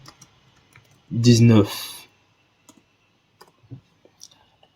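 Python code typed on a computer keyboard: a brief spoken word, then a few scattered, soft key clicks at irregular intervals.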